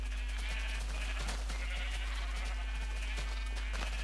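Sheep bleat in a farming video game, several drawn-out wavering calls repeating one after another, loud and close over a constant low hum.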